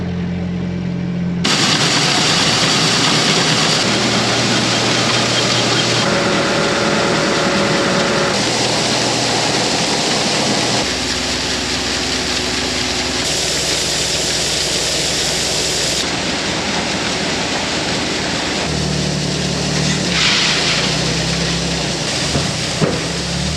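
A tractor engine driving a grain auger runs steadily with a loud, continuous mechanical drone that shifts slightly in tone over time. No one speaks.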